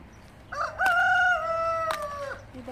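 A rooster crows once loudly and close, a long drawn-out call with a faint cluck at the end.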